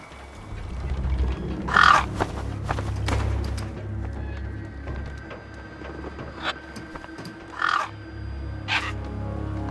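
Crows caw in a bleak wasteland in the video game Beyond a Steel Sky, a few harsh calls spaced seconds apart over a low rumbling ambient drone.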